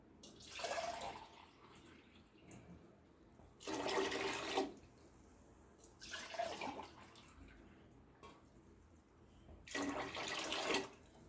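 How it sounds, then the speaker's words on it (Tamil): About one and a half litres of water pours into a container for homemade kanji vathal in four separate bursts, each a second or so long, with quiet gaps between them; close by and moderately loud. "நம்ம ஒன்றரை லிட்டர் தண்ணி ஊற்றிக்கிடுவோம்"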